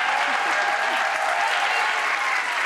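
A school crowd applauds steadily at a back-to-school event, dense continuous clapping heard from among the audience with no pauses.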